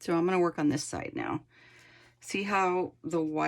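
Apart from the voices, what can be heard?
None of the usual background noises is heard.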